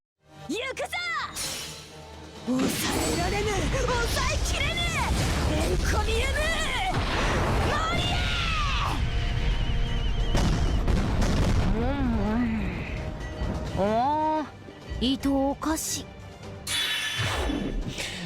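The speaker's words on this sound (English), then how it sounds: "And the fireworks are nice. They just get yeeted." Fireworks burst repeatedly through Summer Ibaraki's Noble Phantasm animation in a video game, a dense, loud run of booms and crackles over bright musical tones and voice effects, with a brief dip near the end.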